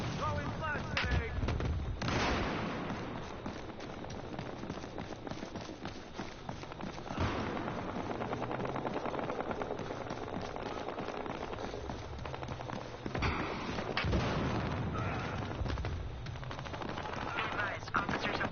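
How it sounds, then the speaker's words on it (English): A flashbang thrown in the video game Battlefield Hardline, with loud bursts amid ongoing gunfire and explosive booms, and game voices speaking over the chaotic battle noise. "Throwing flashbang."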